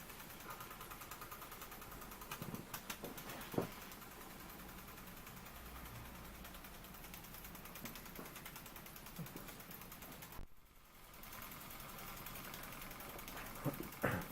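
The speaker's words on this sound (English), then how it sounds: "truly lovely little steam engine" Faint, steady mechanical chuffing and ticking of a Cyldon 13/2 model steam engine running, with light rhythmic clicks and a soft background hiss.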